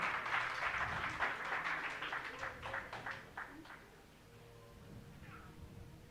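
Applause from a church congregation at a New Year's service, a fairly soft spread of clapping that thins and fades after a few seconds, leaving quiet room tone with faint murmurs.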